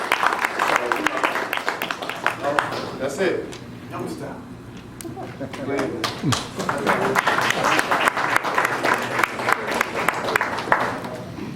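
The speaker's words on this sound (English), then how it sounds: "give us all a round of applause, give us a great hand" Audience applause and scattered cheering at a boxing press conference, a steady wash of clapping running the whole time with someone talking loudly over it.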